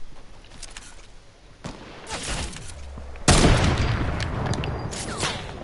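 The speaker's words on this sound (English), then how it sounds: "I just got sniped" Gunfire rings out in an online solos shooter match, scattered distant shots giving way to a single loud, sharp sniper crack followed by a ringing tail and more trailing fire.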